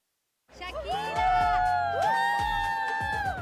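A large crowd of Shakira fans in Rio cheers and shrieks excitedly, with high voices whooping and rising wails layered over a dense, continuous roar, loud and close.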